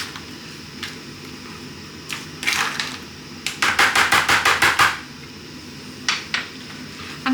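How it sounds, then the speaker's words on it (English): A spoon mixes rice with frozen peas in a bowl, with a burst of quick scraping clicks in the middle and scattered single taps before and after, close and fairly loud. "And then add in some frozen peas. And then give it a really good mix."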